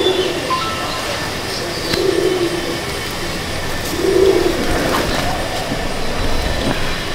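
Madrasi pigeons cooing in a loft, soft low coos recurring a few times amid steady background rain-like noise and faint clatter.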